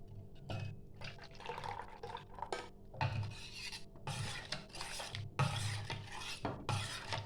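Yogurt starter being stirred into milk for sweet doi makes soft, intermittent sloshing and swirling bursts with faint spoon clinks against the pot, separated by brief quiet gaps; no voices.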